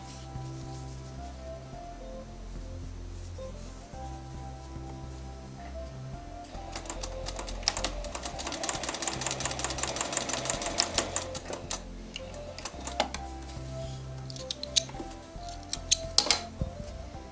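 Sewing machine stitching two quilt sections together, a soft motor hum at first, then a busier stretch of fast clattering stitches midway before easing into lighter intermittent sounds, close and quiet with no speech.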